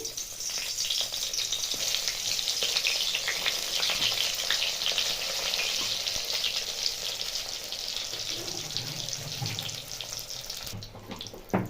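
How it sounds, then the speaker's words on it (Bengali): Pieces of eggplant frying in mustard oil, a loud continuous hiss and sizzle with crackling bursts close by, growing busier toward the end before cutting off abruptly. "বেগুনগুলো ভেজে দিচ্ছি"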